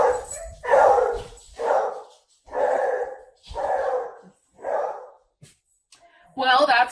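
Clarence, a beagle, lets out a run of about five loud, close barks in steady rhythm, each a short harsh burst with gaps between, ending in a higher yelping cry.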